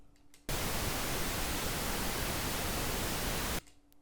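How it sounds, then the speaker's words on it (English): A synthesized flamethrower effect built from noise in Cubase: a steady, loud, broadband whoosh that starts abruptly, roars evenly for about three seconds, then cuts off sharply. "It'll sound pretty much like a flamethrower."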